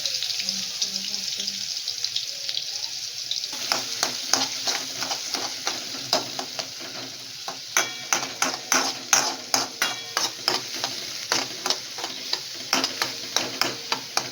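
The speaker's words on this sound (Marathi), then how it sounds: "आता कांदा आहे ना चांगला परतून द्या थोडासा लालसर होऊन द्या" Onion frying in oil with cumin and mustard seeds, a constant sizzle that turns into a rapid series of rhythmic scraping stirs against the pan, close and clear, with some speech.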